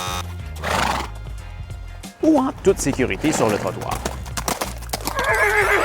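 A horse whinnies loudly and hooves clip-clop on pavement nearby, the neighs rising and falling in a long call over a French-speaking narrator's voice.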